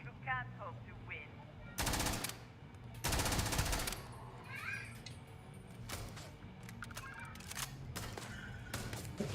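AK rifle fire in the space game Starfield, two loud sustained automatic bursts followed by scattered sharper single shots, with game sounds and faint chirps in between.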